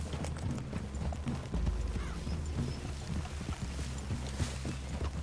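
Steady clip-clop of horse hooves on a hard surface in the video game Red Dead Redemption 2, a brisk continuous rhythm over low rumbling ambience.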